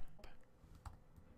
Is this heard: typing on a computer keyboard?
yes